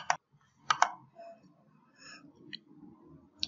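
Soft computer mouse clicks while working in QGIS, a few sharp isolated clicks, two in quick succession, over a quiet background with faint room noise.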